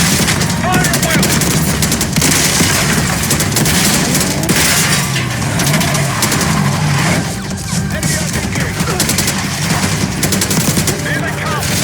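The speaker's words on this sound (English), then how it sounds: "Fire at will!" Sustained gunfire in the video game Black Ops 6, dense overlapping shots and bursts filling the whole stretch at high volume, mixed with other battle noise and some shouted voices.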